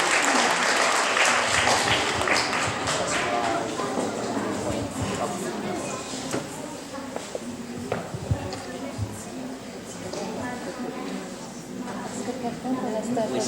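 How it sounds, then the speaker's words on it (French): A school spelling contest audience applauds a participant, dense sustained clapping from many hands filling the room for over ten seconds, with a few louder individual claps standing out near the end. "On l'applaudit s'il vous plaît"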